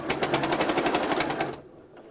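Sewing machine stitching down a potholder seam, a fast even rattling hum of needle strokes for about a second and a half before stopping.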